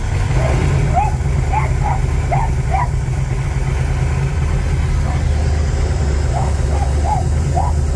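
A small-block Chevy V8 with a blow-through carburetor in a 1980 Trans Am, which has been cutting out, idles steadily with a deep, continuous rumble up close, while faint chirping sounds come and go above it.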